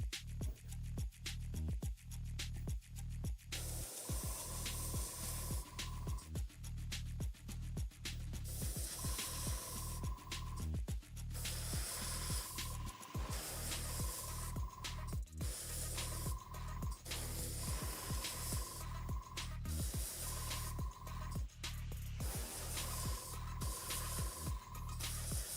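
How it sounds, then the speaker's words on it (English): Spray paint or airbrush sprayed onto a Blood Angels miniature, short repeated hissing bursts of varying length close to the mic, separated by brief pauses over a steady low hum. "I might just spray underneath here because I don't need to spray the top of his head"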